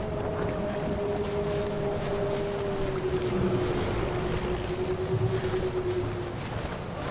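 Steady engine drone of a speedboat in the video game Hell Hunter, a continuous hum holding evenly over an ambient wash of water and wind with no voices.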